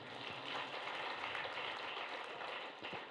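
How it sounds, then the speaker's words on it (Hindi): A large audience claps together at a political gathering, a dense, steady wash of applause filling the whole moment without a break. "तालियां बजा लीजिए।"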